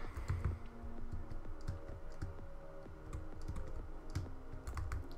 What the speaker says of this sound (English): I'm so sorry if you can hear my keyboard.